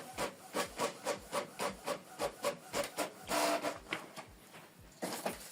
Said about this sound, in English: So it's going to it's printing a test page.